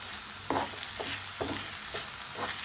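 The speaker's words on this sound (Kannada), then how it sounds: "ಚೆನ್ನಾಗಿ ಫ್ರೈ ಮಾಡೋಣ." Chicken fried rice sizzles in a pan with tomato sauce, vinegar and soy sauce, a steady hiss broken by four or five spoon stirs scraping through, close and moderately loud with no talking.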